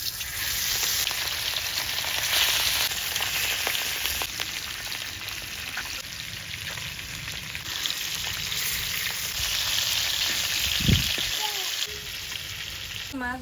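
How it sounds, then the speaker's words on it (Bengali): Fish sizzling and frying in hot oil in an open-air rooftop kitchen, a steady close crackle and hiss throughout, with a brief low thump near the end. "মাছ ভাজা হচ্ছে"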